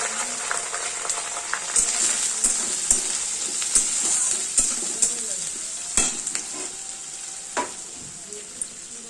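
Chopped onions and split green chillies fry in a pan with crushed garlic, giving a steady bright sizzle broken by close spoon scrapes and taps as the mix is stirred.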